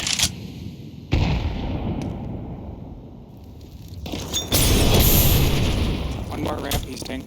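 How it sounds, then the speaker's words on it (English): A grenade detonating in Counter-Strike 2 during a Premier match, heavy booming blasts among bursts of gunfire, loud and close, with a voice calling out briefly in the mix. "Grenade."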